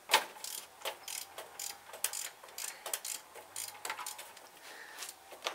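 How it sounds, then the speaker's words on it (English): A ratchet wrench removes a chain tension bolt on a car engine, giving a quick, steady series of close clicking ratchet strokes at an even rhythm. "We have to take off the tension bolt that's over here for the chain"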